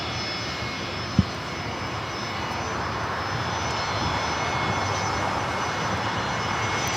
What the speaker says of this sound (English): It's Alaska Airlines Flight 1315 taking off to Portland.